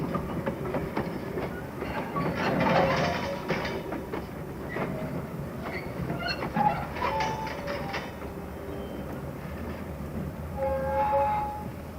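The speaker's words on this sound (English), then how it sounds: "Now our loco returns to the train to remove all the tank wagons" A model BR Class 12 diesel shunter, a Southern Region 0-6-0, moves a rake of tank wagons with rail clicks, clacks and wheel squeal over the track, moderately quiet and close.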